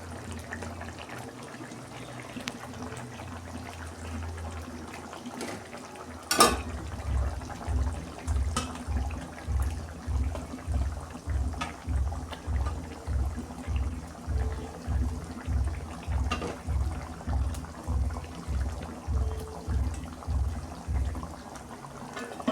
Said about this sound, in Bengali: দেখুন বন্ধুরা, মশলাটা ফুটে গেছে, আমি চিংড়ি মাছগুলো দিয়ে দিচ্ছি